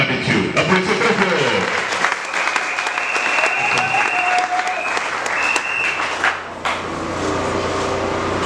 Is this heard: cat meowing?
no